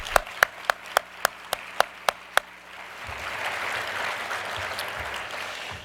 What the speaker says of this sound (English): will you please join me in a final round of applause for our table guests